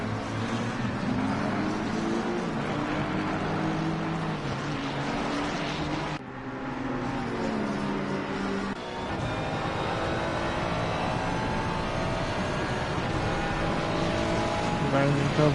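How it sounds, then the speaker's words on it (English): GT3 race cars scream down the Monza main straight in the ACC racing game, layered engine notes rising through the gears with a brief gearshift dip, loud and continuous under a commentator's voice. "Frisk and Tamipoo battling hard here down the main straight here at Monza as they hurtle towards turn 1"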